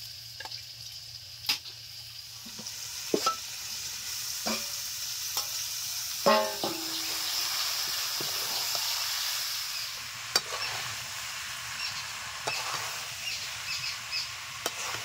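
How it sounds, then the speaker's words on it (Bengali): Boiled jackfruit stirred and fried with chicken in a pan: a low steady sizzle with scattered scraping clacks of a spoon against the pan, fairly quiet and close, with no voices. "এই সেদ্ধ করা এঁচোড় দিয়ে আরো কিছু সময় কষে নিয়ে তারপর জল দিয়ে দেবো"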